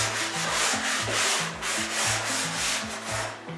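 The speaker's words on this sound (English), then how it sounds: "final sanding before we put paint on it" Sandpaper rubs back and forth over wood on a knee wall hidden door, a close, steady scratching in regular strokes with a low mechanical hum beneath, no talking.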